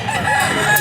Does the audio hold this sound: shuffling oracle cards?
no